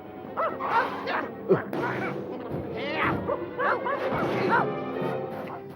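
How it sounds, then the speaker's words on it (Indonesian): Cartoon dog barks and yips in a Garfield animated episode, several short bursts mixed in with characters talking over a busy soundtrack. "Aku tahu gonggongan itu."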